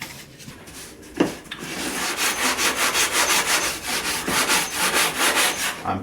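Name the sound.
sanding block rubbing wood edge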